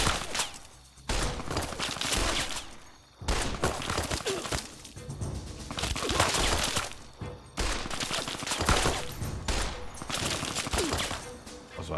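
Mark 1 turret firing in the Fallout game Tale of Two Wastelands: loud, dense bursts of rapid gunfire that run almost continuously, with brief lulls between volleys.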